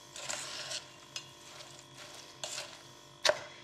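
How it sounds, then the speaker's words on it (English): Marshmallows and broken biscuits are stirred through melted chocolate in a single saucepan for a rocky road slice, giving soft scraping and clacking of the spoon against the pan in irregular strokes, with a sharper knock near the end. "So everything's in the one saucepan and needing to be covered in chocolate. So stir it around."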